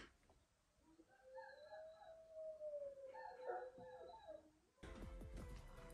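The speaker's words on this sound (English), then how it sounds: "I don't know if you guys can hear them howling" Dogs howling at a passing siren in a long, rising and falling wail, joined by a second voice, then a sudden burst of rattling noise cuts in.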